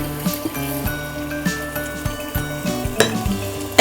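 A spice masala being sautéed in a pan, with a soft sizzle under repeated metal spatula scrapes and taps against the pan in an irregular rhythm, close and fairly loud, with a steady hum beneath.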